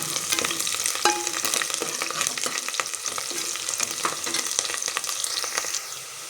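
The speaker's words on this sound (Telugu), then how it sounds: "ఒక్క నిమిషం బాగా ఫ్రై అవనిద్దాం" Green chilies and curry leaves fry in a hot pan for the tempering of a broad bean and potato curry, with continuous crackling sizzle and scraping stirs close by, and no voices.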